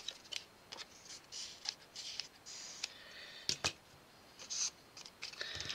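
Scissors snip paper in a quiet room, with a run of short, crisp cuts in an uneven rhythm and small rustles between them.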